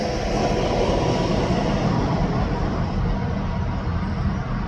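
A long freight train of nearly 80 cars, hauled by two vintage locomotives, rumbles past in a continuous heavy roar with steady low engine drone and rolling wheel noise, loud and unbroken.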